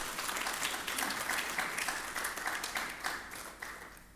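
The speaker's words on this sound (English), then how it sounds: "Can you please clap to our two eminent speakers?" Conference audience applauding two speakers at a session on e-democracy and governmental development, a soft, steady patter of many hands clapping at moderate distance, gradually thinning toward the end.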